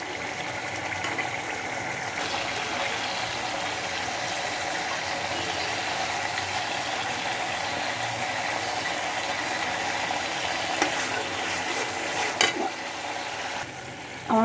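Pieces of fish fry in hot oil in a home kitchen, making a continuous soft sizzle and crackle at moderate loudness, with a few brief clinks and scrapes near the end. No one speaks.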